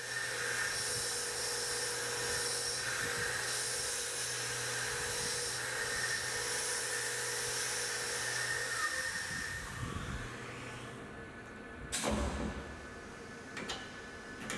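Pocket NC 5-axis mill cutting a heavy chamfer with a 3/8 inch four-flute carbide chamfer mill, a high whining machining tone with faint ticking that shifts and fades partway through.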